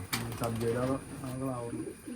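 Soft, throaty pigeon cooing repeats in low, rolling phrases close by, with faint voices murmuring in the background.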